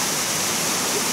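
A small waterfall on a mountain stream in a headwater tributary of the Kuzuryu River rushes with a steady, dense roar of falling water, close and continuous throughout.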